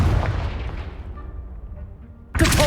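A Confringo fire spell explodes in the video game Hogwarts Legacy with a loud, booming blast that rumbles and fades over two seconds, then a second sharp burst hits at the end.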